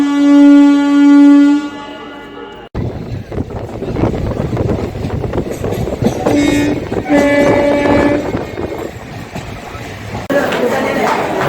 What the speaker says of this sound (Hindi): Chennai central Chhatrapati Shivaji Maharaj terminus superfast express यहाँ पहुंची है मंत्रालयम रोड स्टेशन